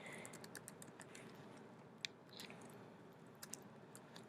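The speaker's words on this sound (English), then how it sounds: "Once I finish typing it" Light typing on a computer keyboard: quiet, irregular clicks of keys in a steady patter with a couple of sharper taps, alone with no voices.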